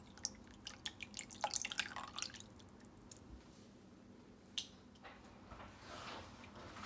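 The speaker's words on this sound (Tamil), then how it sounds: "இதை ஒரு பவுலில் ஃபில்டர் பண்ணிக்கலாம்." Tamarind water dripping and trickling through a filter into a bowl nearby, a quick patter of drops at first, then a few scattered drips.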